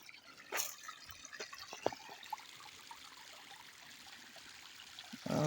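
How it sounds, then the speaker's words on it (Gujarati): Water from a pipe, fed by a bore well, flows and trickles into a farm field in a village, a steady close splashing stream with a few sharper drips and bursts. "અહીંયા હાલે છે પાણી"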